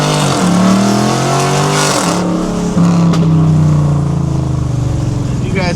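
A cammed Dodge Challenger R/T launches hard from a standstill, its engine roaring loud and close as it revs up through the gears with brief shift dips, tires briefly losing traction.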